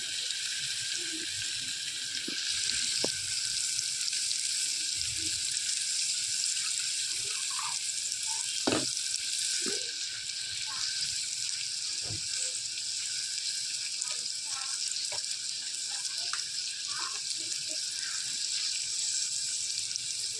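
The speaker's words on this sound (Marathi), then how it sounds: "फोडणी दिली आहे" A steady broadband hiss of a spice tempering with tomatoes sizzling in hot oil, for spinach and moong dal curry, runs throughout, with scattered faint clicks and pops; no voices.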